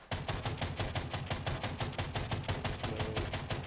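Rapid automatic gunfire with recoil in the first-person mech shooter game Angels Fall First, a steady train of loud, evenly spaced shots running throughout with no talk.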